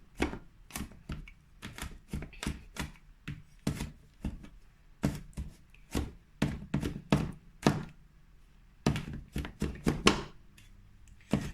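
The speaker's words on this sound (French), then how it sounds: "Maintenant, on va hacher nos 3 gousses d'ail." A heavy cleaver chops three garlic cloves on a cutting board in rapid, irregular bursts of sharp thunks, close and fairly loud, with a short pause before the chopping resumes.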